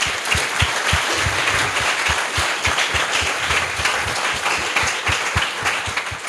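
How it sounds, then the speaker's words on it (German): Audience applause fills a packed hall at the Jugend hackt Köln 2017 farewell, dense steady clapping with a few sharp individual claps standing out throughout. "nochmal einen herzlichen Applaus"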